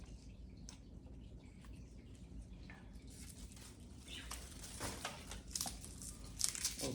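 Dried red bean plant stalk being ripped off by hand, a close, fairly quiet crinkling and tearing that builds toward the end, with brittle rustles and snaps over low background noise.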